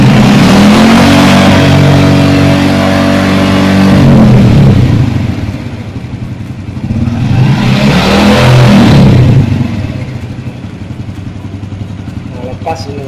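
Motorcycle engine revving twice as the throttle is opened and released during electrical system repair, with a steady idle hum between the surges and a person talking over it.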